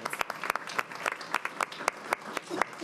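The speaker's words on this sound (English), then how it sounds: "So please give them a round of applause." Audience applause for student performers at a school board meeting, a steady patter of many hands clapping with sharper individual claps standing out, fairly even in level throughout.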